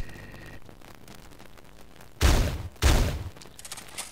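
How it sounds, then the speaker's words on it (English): The can gun in the video game Teleglitch goes off twice in quick succession. Each one is a loud, close, bassy blast with a short rumbling tail, heard alone against a quiet background. "do you get hurt when you shoot the can gun?"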